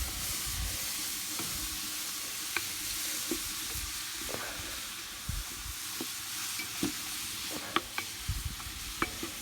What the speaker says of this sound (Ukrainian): І треба цілий час помішувати, щоб не пригоряла цибуля наша.